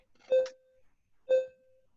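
Two short electronic beeps about a second apart, clear and tonal, with silence between them.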